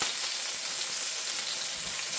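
A thin steak sizzles steadily in a hot pan, a dense, continuous frying hiss heard close up with no talking over it.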